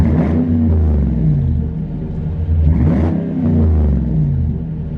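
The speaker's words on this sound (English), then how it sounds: "Not that loud of a tone on the exhaust." Deep engine rumble of a new gas heavy-duty pickup truck with a Flowmaster exhaust, revving up and settling in waves, a throaty exhaust growl heard close by with no talking.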